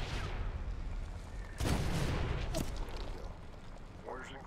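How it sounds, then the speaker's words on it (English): Incoming mortar fire in the combat game Medal of Honor (2010): a heavy boom rolls in over a steady battlefield rumble, then a second sharper impact follows, with scattered debris and faint background noise. "Mortar inbound."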